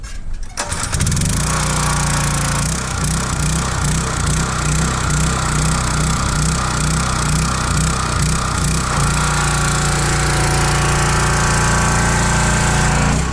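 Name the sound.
pressure washer engine pull-started and running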